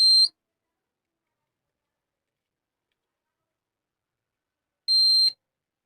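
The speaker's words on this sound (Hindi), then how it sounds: "बीप की आवाज़ आनी चाहिए।" Two short electronic beeps from an induction cooker under repair and being tested, one at the very start and another about five seconds later, with silence between.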